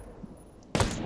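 A single Zastava M93 sniper rifle shot in Ghost Recon Breakpoint, fired above a vehicle's wheel well, cracks out sharp and loud after a quiet moment, its tail ringing briefly.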